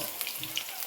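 Chopped vegetables go into a hot pan for fried rice and give a brief, continuous, bright sizzle with small crackling pops, close and moderately loud.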